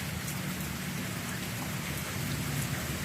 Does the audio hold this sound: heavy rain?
yes